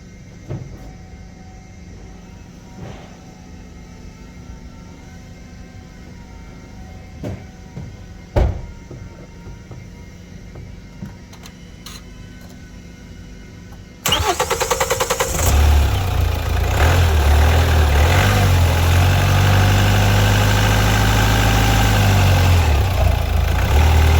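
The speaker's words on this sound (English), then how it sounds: "Now I'm going to crank the engine." A 2015 Hyundai Tucson 1.7 CRDI diesel engine sits quiet, then cranks and catches halfway through after fuel filter priming, settling into a loud, steady low idle that holds to the end.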